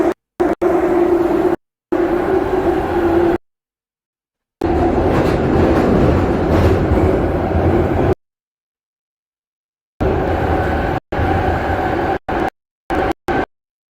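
Ride aboard a public transport train, with steady rumbling carriage noise and rail clatter in several bursts broken by abrupt cuts to silence.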